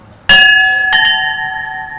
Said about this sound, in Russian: Правой рукой берутся зазвонные колокольчики